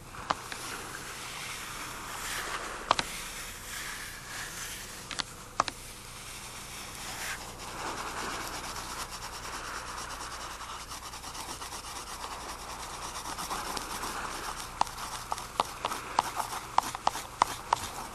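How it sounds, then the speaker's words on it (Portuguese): A spatula rubs across paper, blending and smudging paint in a continuous scraping swish. A few sharper scratchy clicks stand out along the way. "basta esfumar as cores com uma espátula e cobrir depois com o branco"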